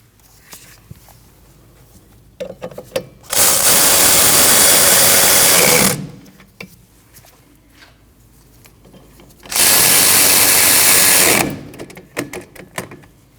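Power tool tightening bolts on the rear suspension knuckle of a 2003-2008 Subaru Forester, two loud sustained bursts of about two seconds each, separated by quieter clanks and shuffling of work nearby.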